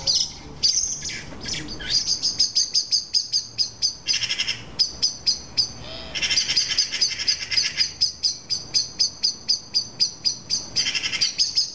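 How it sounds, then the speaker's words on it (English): Blackbird chicks scream in a rapid, regular series of shrill, high-pitched calls while a magpie raids their nest in a treetop, the cries close and loud, with brief pauses before resuming. "The blackbird babies are screaming."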